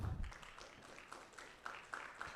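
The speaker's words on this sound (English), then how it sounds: "A round of applause for these guys." Faint, distant audience applause for a conference panel at PDMI West 2022: a soft, steady patter of many hands with a few louder clap bursts, and no talking.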